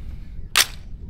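A single rifle shot fired with the Omega36M suppressor removed gives one sharp, loud crack that fades quickly over faint background hum.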